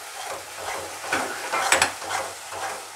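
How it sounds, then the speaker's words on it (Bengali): Spice paste sizzles in hot oil in a pan while a utensil stirs and scrapes through it, giving a steady close frying hiss with a few louder scraping strokes. "ভাজা হয়ে মশলাটা তেল ছাড়ছে"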